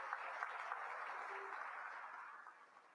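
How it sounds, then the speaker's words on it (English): Banquet crowd at a charity dinner for a service-dog training group giving a round of applause for the auctioneer, a dense, fairly faint wash of clapping that slowly thins toward the end. "Give Dan another big round of applause"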